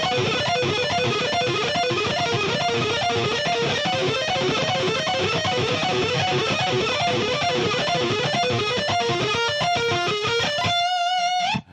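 A fast, shred-style guitar lick with a classical violin-like feel, played up to speed on a distorted electric guitar, rapid repeating note patterns rippling continuously before ending on a sustained held note.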